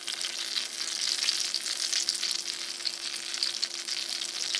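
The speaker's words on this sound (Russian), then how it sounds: "класть и обжаривать их с двух сторон" Syrniki, cottage cheese pancakes, fry in a pan with a steady, dense sizzle that carries on evenly and close by, with no voices over it.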